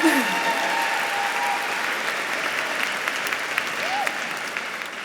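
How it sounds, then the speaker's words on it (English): An audience at a National Book Award ceremony applauds steadily and loudly throughout, a dense, sustained wash of clapping from a large crowd. "let's give them a round of applause"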